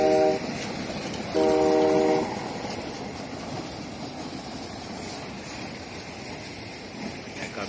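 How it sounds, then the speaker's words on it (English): A passenger train passing through traffic in Jamaica sounds two blasts of its horn, a short one and then a longer one, over a steady rumble of rolling wheels and engine noise that continues after the horn stops. "This is the train in Jamaica, you know?"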